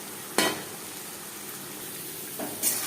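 Garlic and chickpeas are stirred in a pan over a medium flame while cooking Bengali kochur shak. Two short bursts of sizzling and scraping rise over a soft, steady background frying hiss.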